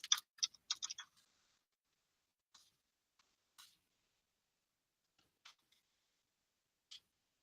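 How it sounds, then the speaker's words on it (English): A computer keyboard is tapped close by in a quick burst of keystrokes, then a few sparse, isolated clicks spaced out over several seconds with silence between. No voices. "I can type in a message."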